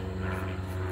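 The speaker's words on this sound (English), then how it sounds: "There's a plane up in the sky somewhere." A propeller plane drones overhead during metal detecting outdoors, a steady low engine hum with no voices.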